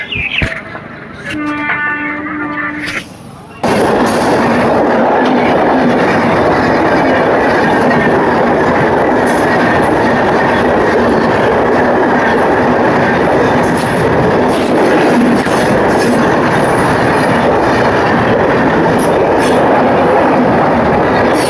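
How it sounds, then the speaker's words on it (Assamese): A loud train roars past close by near Bongaigaon, with continuous rumbling and rhythmic clatter of wheels on track that lasts for a long stretch. "তো ট্ৰেইনখন গ'ল, এতিয়া যাম।"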